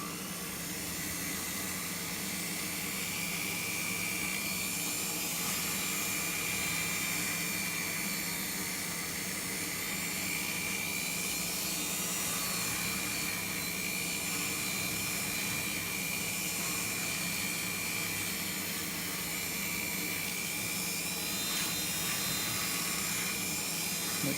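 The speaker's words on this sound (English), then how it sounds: "Then all we have to do is polish it. I like to use a felt wheel, soft felt" A soft felt buffing wheel with polishing compound whirs steadily against a resized jewelry ring, a loud continuous motor-driven drone with a broad hiss that holds unbroken throughout.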